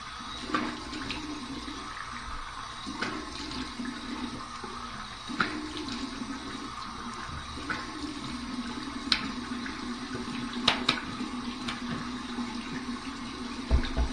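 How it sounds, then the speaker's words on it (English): Cold tap water runs steadily into a bathroom sink for a rinse after shaving, a continuous moderate splashing rush with small clinks and knocks on top, heard alone. "here's my cold water rinse"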